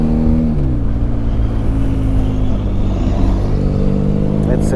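Car driving along a mountain road near La Palud-sur-Verdon and Aiguines in France. A loud, close, steady engine drone rises and falls in pitch with gear and throttle changes, continuous throughout.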